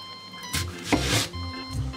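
A knife cuts roughly through onion on a board in a few quick, close chops, with a pause between strokes and no talk.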